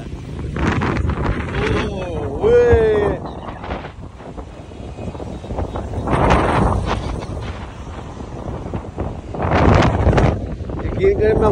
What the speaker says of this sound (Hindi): आपको पता चल गया होगा कि कितनी तेज हवा है